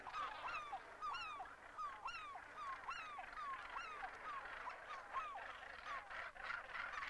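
A dense gannet colony on Bass Rock calls continuously, with many harsh, rasping cries overlapping in a steady chorus, some close and loud, others farther off.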